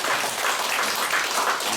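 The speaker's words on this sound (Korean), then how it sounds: "이분들에게 박수 한번 쳐주시겠습니다" An audience at a cultural lecture on Buddhist pagodas claps for two lecturers, an even, continuous round of applause from a room full of people, fairly loud and unbroken.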